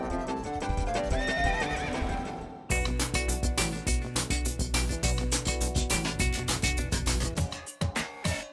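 A horse neighs at length over musical tones, then hooves clip-clop in a quick, steady rhythm, loud and close, for the rest of the stretch.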